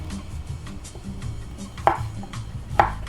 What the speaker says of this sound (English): We're gonna chop these coarsely as well.